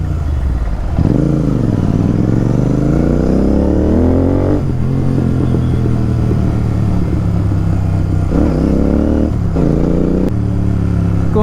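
A motorcycle roars loudly and steadily through the streets of Raichur, its engine note rising and falling as it accelerates and shifts, droning close by for the whole stretch with no talking.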